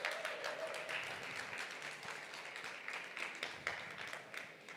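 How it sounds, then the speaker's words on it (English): Audience applause welcoming a speaker at a sports and fashion design talk: a faint, steady patter of clapping hands running throughout, distant and thin, with no voices over it. "If you can help me welcome him with a big round of applause"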